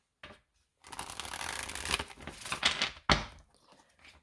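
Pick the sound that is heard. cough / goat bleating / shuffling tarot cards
shuffling tarot cards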